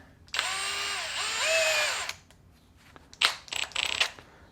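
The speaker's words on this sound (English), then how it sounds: "we'll switch over to the concrete drill bit or masonry." A hammer drill fitted with a concrete masonry bit whines loudly for about two seconds, then gives a few shorter, sharper bursts close by.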